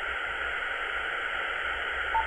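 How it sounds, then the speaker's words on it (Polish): Steady hiss of radio static fills the channel, with a faint, unreadable modulated transmission buried underneath; a brief tone blips near the end. "Słyszę, że tam coś moduluje, ale to jest nieczytelne"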